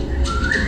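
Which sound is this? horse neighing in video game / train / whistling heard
whistling heard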